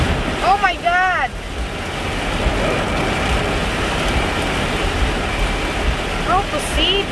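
Heavy rain pours on a car driving through bad weather in Ohio, a dense steady hiss and drumming throughout, with brief whistling tones at the start and end.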